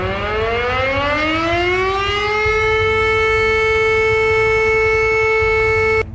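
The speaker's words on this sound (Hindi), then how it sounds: "प्रेसिडेंट के न्यूक्लियर फुटबॉल में खतरे का सायरन बजने लगता है" A loud warning siren winds up, its pitch rising over the first few seconds, then holds a steady wail before cutting off abruptly.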